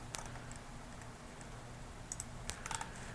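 Computer mouse clicking while scaling an image by dragging its corner, a few sparse sharp clicks at close range over a quiet room hum.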